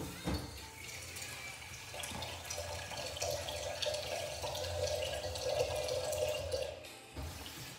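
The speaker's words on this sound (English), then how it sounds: "Add some water to this." Water pours from a tap into a 1960s teapot, a steady splashing stream that grows a little fuller as the vessel fills, then cuts off near the end.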